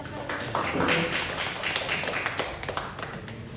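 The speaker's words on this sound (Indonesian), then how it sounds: "boleh tepuk tangan sekali lagi untuk pembicara kita hari ini" An audience at a library workshop applauds its speaker, with many hands clapping in a fairly soft, continuous patter, while someone talks faintly underneath.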